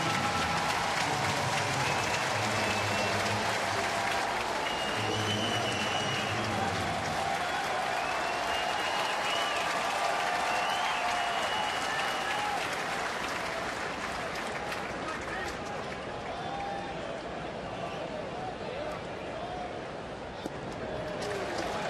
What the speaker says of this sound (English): I'm sure he'll get a nice ovation from the crowd.